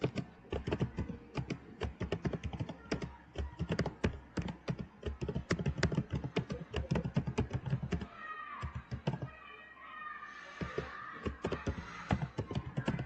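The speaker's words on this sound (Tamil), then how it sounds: "நான் டைப் பண்ணிட்டு சொல்றேன் இருங்க" Rapid clicking keystrokes on a computer keyboard, close and busy in irregular bursts, pausing briefly before resuming, with no talking.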